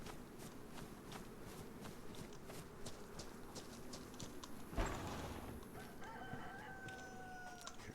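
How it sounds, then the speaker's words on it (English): Chicken clucking and crowing faintly inside a barn in the survival game DayZ, set against a steady ambient hiss and rhythmic clip-clop footsteps, with one sharp knock partway through. "Chicken too."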